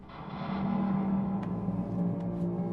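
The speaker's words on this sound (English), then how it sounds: "that's really just a garbage can lid pitched down an octave with a little bit of reverb on" A deep, booming metallic tone from a garbage can lid pitched down an octave with reverb swells and lingers with a reverberant tail, a few faint clicks near the end.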